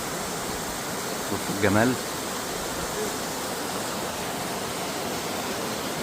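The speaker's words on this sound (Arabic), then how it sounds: "بصوا الشلالات نازلة ازاي،" The Martvili waterfalls in Georgia pour in a constant, even rush of falling water, and someone briefly speaks over it near the start.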